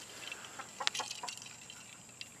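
A few short clucks from chickens nearby, scattered over a quiet outdoor background with no talking.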